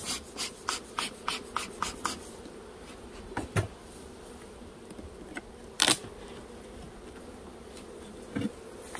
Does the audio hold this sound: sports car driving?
no